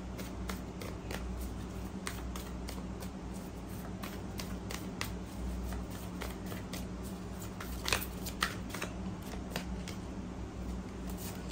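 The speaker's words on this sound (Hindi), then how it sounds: "actually we need one card so we have to shuffle again" Tarot cards being shuffled by hand, a steady run of soft riffling and slapping taps, close and fairly quiet over a low background hum, no talking.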